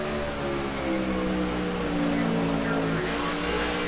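Race car engine noise from the NASCAR '15 video game at Richmond, a steady loud drone with shifting engine harmonics and a slight tonal change near the end, with no speech.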